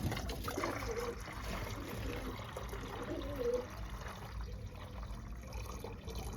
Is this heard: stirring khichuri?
no